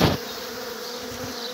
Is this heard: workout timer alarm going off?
no